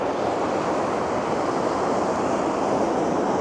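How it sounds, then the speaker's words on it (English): A small waterfall in Iceland pours in a steady, broad rushing wash of water that sounds close and continuous, with no voices. "I got this wonderful little mini waterfall, picking it up all the way back to the main waterfall."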